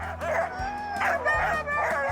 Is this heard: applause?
no